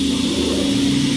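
Rema DMMS 40-340 panel saw's main blade motor running up, a loud steady hum with a strong low tone and broadband whir, close and uninterrupted with no voices.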